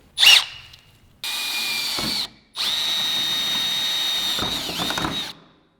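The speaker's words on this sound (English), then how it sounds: "3/16 hole is what we need to drill through both hoods." After a short clatter, a power drill whirs in two long, high-pitched bursts through two stacked car hoods, close and loud, with a brief pause between them.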